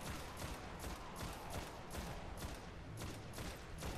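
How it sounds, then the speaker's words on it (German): Dense, continuous rapid gunfire from a suppressed, muffled weapon in the video game Destiny: Rise of Iron, a steady rattling burst that runs the whole time at moderate level. "Die hört sich voll nice an, die Waffe. So gedämpft."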